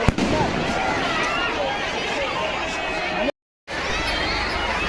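At a village fair, firecrackers keep going off, dense and loud, over crowd chatter and voices. A short gap of silence breaks the noise near the end.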